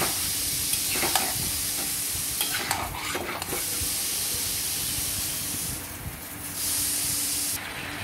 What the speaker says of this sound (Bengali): যতক্ষণ না তেল ছেড়ে আসবে ততক্ষণ ভালো করে কষিয়ে নিতে হবে।